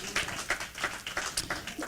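A church congregation claps in a steady, quick rhythm during a sermon, the beats evenly spaced and moderately loud with a faint voice mixed underneath.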